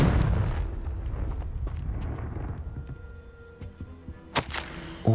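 A Confringo fire-blast spell bursts in Hogwarts Legacy with a loud opening blast, then a low rumbling game backdrop and a second sharp explosive burst near the end.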